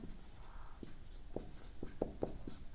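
Pen writing out a Class 10 arithmetic progression maths solution on paper, soft scratching strokes and taps in short bursts, close and quiet, with faint whispering in the background.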